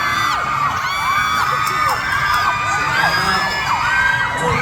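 A large fan crowd at a NESCAFE x PERSES introduction event cheers, shouts and whoops loudly and continuously, high excited yells rising and falling throughout.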